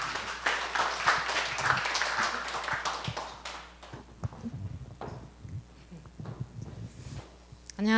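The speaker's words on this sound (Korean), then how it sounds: "박수로 환영하겠습니다" An audience at a church camp forum applauds to welcome a speaker, a burst of scattered clapping that is loudest at the start, then thins into sparse individual claps and taps before fading.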